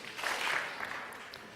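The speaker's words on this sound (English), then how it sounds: "Give one clap to all the tweeters." A conference audience claps together once. A short, bright burst of many hands lands almost as one sound and fades quickly.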